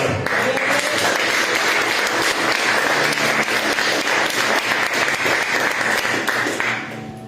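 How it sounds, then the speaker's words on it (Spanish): A church congregation applauds steadily for about seven seconds, a dense wash of clapping that fades at the end. "¿Quién le pone un aplauso al Señor?"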